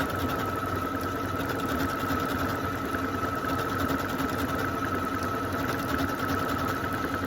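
A sewing machine stitching Christmas candle appliqué onto a fabric table runner runs in a steady, close, continuous whir from start to finish, with no voices.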